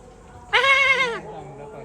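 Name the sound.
goat bleating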